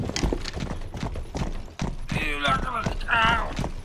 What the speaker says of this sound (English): There's a horse.